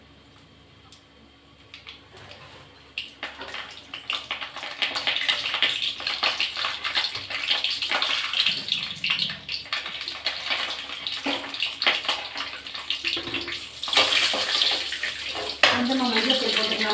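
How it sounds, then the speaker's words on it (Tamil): Mustard seeds and chana dal fry in hot oil in a pan, making a dense, rising crackle and sizzle with scattered pops that grows louder and busier over time. "கடுகும் கடலைப்பருப்பும் ஈவனாக பொரியட்டும்."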